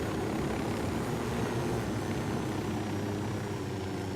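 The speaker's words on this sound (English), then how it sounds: "I'm gonna put down the chopper here." Steady helicopter rotor and engine drone from a chopper flying in the Ghost Recon video game, a constant loud whir lasting throughout with no talk.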